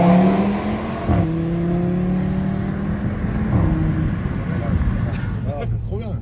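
An Audi RS3 five-cylinder engine revs and burbles close by, its throaty drone rising and falling while people talk over it inside the car.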